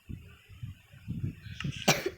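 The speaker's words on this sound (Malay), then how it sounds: "Wih, malah batuk." A series of short, muffled coughs from one person nearby, rhythmic bursts over a faint background hum, ending with a sharper louder cough.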